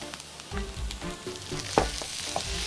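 Beef sizzling and frying in a hot pan, a steady crackle with occasional stirring clatter, close up and alone.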